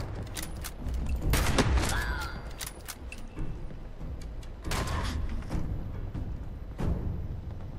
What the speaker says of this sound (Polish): Te strzały są dosyć dalekie.